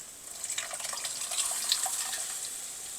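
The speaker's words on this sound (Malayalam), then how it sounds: "നമ്മൾ വേവിച്ച് വെച്ചിരിക്കുന്ന പരിപ്പ് അതിനകത്തേക്ക് ഒഴിക്കാം" Cooked lentils for restaurant-style dal tadka are poured into a hot tadka masala, giving a soft, steady wet hiss that runs the full length without pause.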